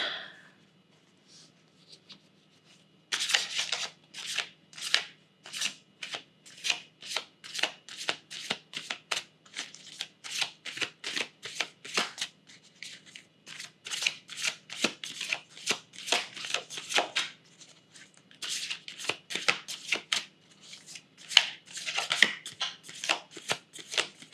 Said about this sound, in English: I'm gonna pull 1 card from the Moonology Oracle deck